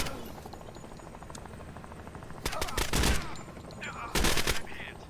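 Bursts of automatic gunfire in the Door Kickers 2 tactical video game, two loud clustered volleys breaking over a steady background rumble, with brief voice-like sounds between.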